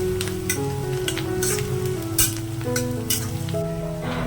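Ginger, garlic and green chili paste frying with onions in a pan for chicken keema gives a steady, close sizzle that crackles throughout with no break, over faint background tones.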